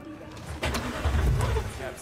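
A car engine cranking and catching in Cyberpunk 2077, a low rumbling start that swells and holds, with people talking over it.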